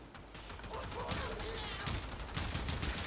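Kuva Kohm shotgun firing in Warframe, a rapid, continuous stream of loud blasts that blur together at a fast fire rate, sustained for the whole stretch with a faint voice underneath.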